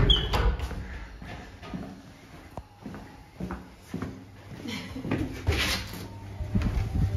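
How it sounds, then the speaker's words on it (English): An indoor door at Watermouth Castle swings shut with a solid knock among footsteps, creaks and room clatter, heard up close. "Hey, shut that door."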